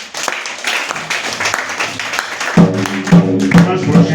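A church congregation claps and acclaims at the close of a Sunday testimony service, a burst of scattered applause under a voice, followed by steady rhythmic clapping with music.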